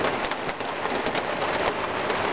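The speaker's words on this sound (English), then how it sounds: "sure lets the rain noise in." Steady rain patters on a roof overhead, a dense continuous hiss with scattered louder drops, no voices.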